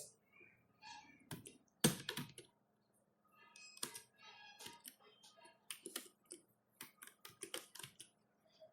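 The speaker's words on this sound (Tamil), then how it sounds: "டபுள் கோட்ஸ் யூஸ் பண்ணி அதுக்குள்ளே நான் இப்போ ஹலோ வேர்ல்டு அப்படிங்கிற டைப் பண்ணுறேன்" Someone types on a computer keyboard in short bursts of quiet, crisp key clicks with brief pauses, entering a short line of code.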